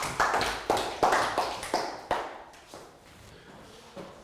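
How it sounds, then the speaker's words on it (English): A classroom of young pupils gives a round of applause, heard as a series of sharp, rhythmic group claps that fade toward the end. "Round of applause for Pak Boom."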